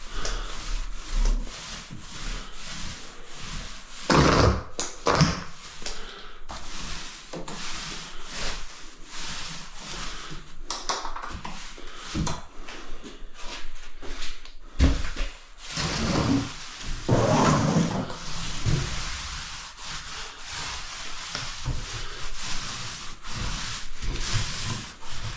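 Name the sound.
scraping a tiled floor with a trowel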